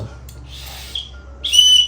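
A toy whistle gives two shrill blasts, a short one followed by a longer, louder one, close to the microphone with no talking over it.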